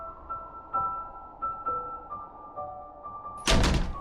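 In the horror video game Irony of Nightmare, soft tonal Christmas carol music plays throughout, then a single heavy knock on a door lands loudly near the end.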